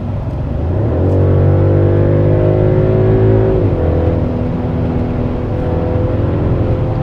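A Mercedes GLE, a camouflaged 2027 prototype, revs its engine in sport mode, a loud steady drone climbing in pitch for a few seconds, then dropping back and holding a lower hum under continuous road noise.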